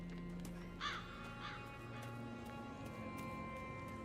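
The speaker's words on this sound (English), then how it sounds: "I don't understand why the birds sound like monkeys." Bird calls from the Gothic Remake video game: two short, harsh cawing cries in quick succession sound over a steady ambient background bed, moderately near and not very loud.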